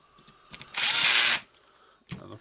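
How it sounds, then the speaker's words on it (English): A Makita 18V LXT lithium-ion cordless drill, tested after a switch replacement, runs in one loud, short whirring burst of about half a second, preceded and followed by a few quiet handling clicks. "now we can test the drill, and yeah, it works beautifully"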